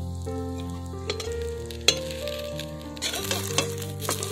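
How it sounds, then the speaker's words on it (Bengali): Cabbage paratha frying in oil in a kadai, a steady close sizzle with a sharp clink from a utensil, and the frying swells louder as the paratha is flipped near the end. "উল্টে পাল্টে ভালো করে ভেজে নেব"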